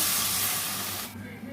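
Water poured into a hot pan of prawns bursts into a loud, steady steam hiss that stops abruptly, leaving a quieter bubbling.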